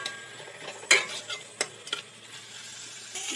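Mutton keema sautéed and stirred in a pan: a low steady sizzle with a few distinct spatula scrapes and clicks against the metal, close and fairly quiet.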